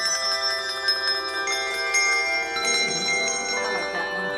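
Handbells shaken rapidly in a trill during a bell choir rehearsal, bright sustained ringing tones shimmering continuously and fairly loud, with several pitches overlapping.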